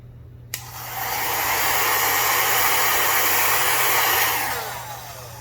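A hair dryer blows on wet acrylic paint for a fluid art bloom. It switches on with a click, rises into a steady loud whoosh for several seconds, then winds down near the end.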